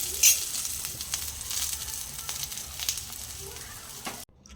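Green chillies and garlic frying in oil, a bright continuous sizzle with faint crackles and stirring scrapes, close and steady before cutting off abruptly.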